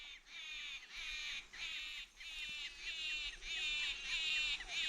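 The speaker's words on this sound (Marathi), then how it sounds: "दिवस मावळतेला गेला की पाखरांचा चिवचिवाट चालू होतो" At dusk in the countryside, crows caw in a steady repeating series, fairly distant and moderately quiet, over a faint background of other birdsong.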